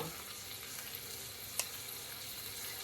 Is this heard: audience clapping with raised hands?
no